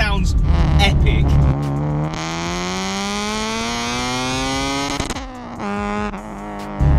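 A naturally aspirated 235 bhp Honda Civic EK4 with a B16B engine revving hard into VTEC, a loud rising wail as the revs climb steadily, then a brief dip and another surge near the end.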